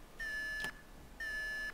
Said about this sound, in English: I think maybe the alarm's going.